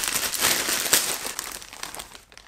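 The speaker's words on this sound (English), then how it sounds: "So what do you say we get him out of this plastic bag?" A plastic bag crinkles and rustles loudly at close range as a small plush anime figure is unwrapped, with bursts of crackling that fade out toward the end.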